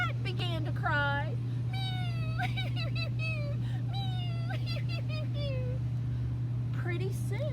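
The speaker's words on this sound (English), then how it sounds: "the cat began to cry" A cat meows repeatedly in drawn-out, wavering cries, close and clear over a steady low hum.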